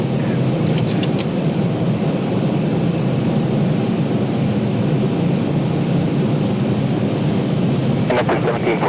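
Inside an airplane on landing approach to St. Martin, a loud, steady broadband roar of engine and airflow fills the cabin without a break, with a few faint clicks and rattles near the start and end.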